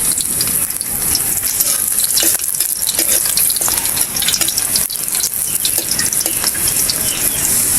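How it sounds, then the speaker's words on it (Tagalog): Garlic sautéing in a pan for humba of pork hocks and tail, a loud, dense, continuous sizzle and crackle with busy stirring throughout, no voices. "gigisa na po tayo. Bawang."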